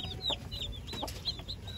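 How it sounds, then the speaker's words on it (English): Newly hatched baby chicks cheeping in high, thin repeated peeps, faint and close, with soft clucking from a hen mixed in and no talking. "we have baby chicks. Newly hatched."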